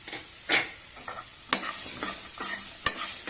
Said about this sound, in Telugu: ఉల్లిపాయలు కూడా ఒక్క నిమిషం పాటు వేయించండి